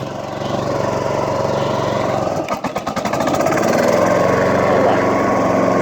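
A John Deere commercial mower with grass bag drones loudly nearby with blades engaged, its pitch wavering briefly midway before settling into a steady, whirring roar.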